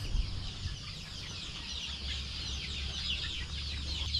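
Many chicks peep together in a poultry shed in the Philippines, a dense, continuous chorus of high chirps filling the space at moderate volume, with a low background hum underneath.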